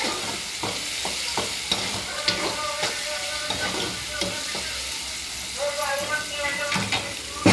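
Moong dal being stir-fried in a pan, with steady sizzling under repeated scraping and stirring strokes close by, running throughout at an even, busy pace.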